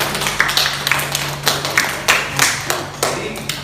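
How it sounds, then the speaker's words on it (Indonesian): A small classroom group claps for classmates after a chemistry peer-teaching lesson on corrosion: sparse, uneven claps close to the microphone, loose bursts rather than a full ovation, over a faint steady hum. "Beri tepuk tangan untuk teman-teman kalian."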